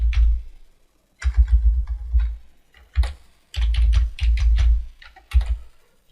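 A password being typed on a computer keyboard: bursts of close, clicky keystrokes with brief pauses between runs, no talking.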